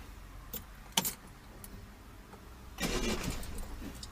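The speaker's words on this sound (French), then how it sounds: "la voiture, enfin le moteur n'a pas démarré" During a driving lesson, keys jangle briefly, then a car engine cranks and sputters in an attempted restart, a rough rumbling burst that does not settle into a clean idle. It is faint and close, with no talk.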